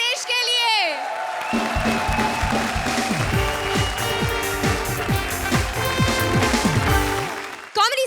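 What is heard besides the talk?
studio audience applause on comedy show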